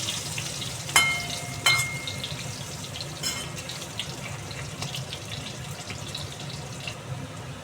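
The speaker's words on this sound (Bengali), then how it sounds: "আলুগুলো আমার লাল লাল করে ভাজা হয়ে গেছে" Potatoes fry in a pan with a continuous soft sizzle underneath, opened by two sharper scraping clatters of a utensil near the start and lighter stirring knocks later, with no speech.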